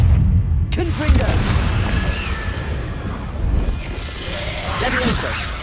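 Confringo explosive spell in Hogwarts Legacy on PC, as a loud booming blast and rumbling burst with a whooshing tail and lingering debris noise, mixed with game voices.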